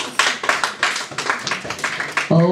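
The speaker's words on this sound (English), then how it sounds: "Oh, whilst they are clapping," A church congregation claps at a fast, uneven pace. The claps are close and loud, and a voice begins to speak just at the end.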